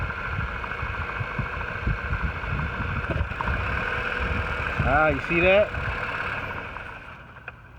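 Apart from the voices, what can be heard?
2014 Chevrolet Impala engine losing power and cutting off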